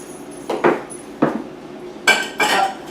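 Cauliflower poured into a pan on medium heat to dry out, giving several separate clattering bursts of pieces hitting the pan, the last two louder and more ringing, with no talk.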